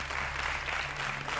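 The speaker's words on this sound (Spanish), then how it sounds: "Calma, un aplauso para los dos, que van ahora por 500." Studio audience applause on a Spanish TV quiz show, a brief, steady wash of clapping from a crowd, fairly soft and unbroken throughout.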